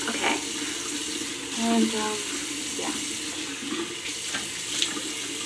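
Tap water runs steadily into a bathroom sink as a face is rinsed after a pink clay mask, a continuous hiss and splash with a brief spoken word over it.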